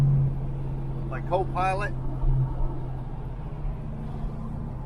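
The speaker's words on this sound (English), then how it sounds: "Going out for a little cruise in the 70 Le Mans Sport." A 1970 Pontiac Le Mans Sport cruising with a steady engine rumble and road noise throughout, while someone speaks briefly over it.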